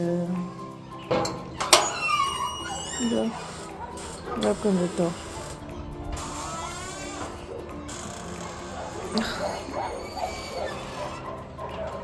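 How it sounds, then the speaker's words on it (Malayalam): Army dogs at a training centre bark and yip from some distance in short bursts, mixed with a person talking close by and some background clatter. "ഈ ഡോഗ്സിൻ്റെ സൗണ്ട് കേൾക്കുന്നത് നമ്മുടെ തൊട്ടപ്പുറത്ത് തന്നെ ആർമി ഡോഗ്സ് ട്രെയിനിങ് സെൻ്ററാണ്"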